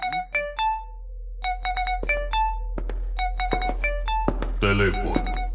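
A telephone rings in an anime scene, repeated bursts of a bright electronic ringtone separated by short gaps, with a thud and a brief voice near the end.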